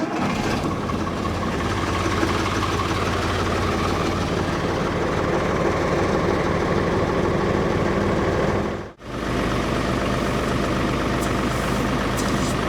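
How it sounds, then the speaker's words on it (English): A Magirus Deutz 170D11 truck engine runs steadily as it builds air pressure. A loud, close, continuous diesel rumble carries through, broken only by one brief dip near the end. "what I'm going to do now is just simply fire up the truck and let it build some air pressure"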